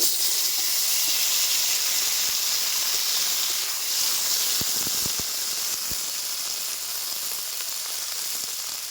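Vegetables, kohlrabi among them, fry in leftover fish-frying oil, a steady loud hiss and sizzle with a few sharp pops near the middle, with no talking.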